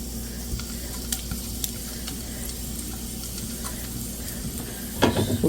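Dried red chilies fry and sizzle in hot oil in a pan, a continuous crackling hiss with light stirring clicks, swelling into a louder burst of spattering near the end.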